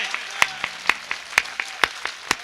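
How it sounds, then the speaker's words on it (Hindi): At a 2018 kavi sammelan poetry gathering in Uchehara, clapping sounds as evenly spaced, crisp, loud hand claps in a steady rhythm of roughly four per second rather than a dense crowd wash. "एक बार दोनों हाथ खड़े कर जोरदार ताली बजाकर मुझे बताएं"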